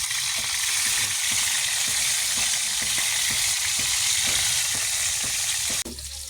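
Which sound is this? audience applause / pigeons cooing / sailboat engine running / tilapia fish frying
tilapia fish frying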